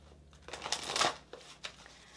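Tarot cards being shuffled nearby, a soft, brief burst of papery riffling that swells and fades, followed by a couple of light taps, quiet overall.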